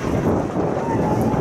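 Strong outdoor wind buffets the microphone in a steady broadband roar, loud and continuous, with no clear gusts or breaks over the short stretch.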